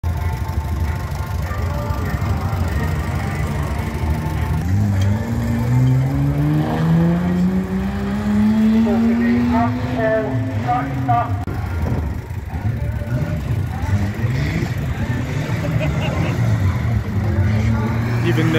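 Van banger race cars roaring around Cowdenbeath Racewall in Scotland, engines revving and rising in pitch as they pass, with tyre noise and a continuous loud, close din of several vehicles on track.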